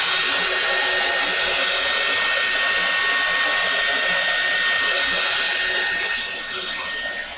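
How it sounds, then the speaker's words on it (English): A hair dryer blows steadily on wet paint over an art mat, a loud continuous whirring roar that holds for several seconds and then eases slightly toward the end. "put your hair dryer on it"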